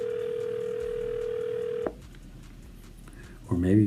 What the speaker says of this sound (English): But I'm going to call her one more time.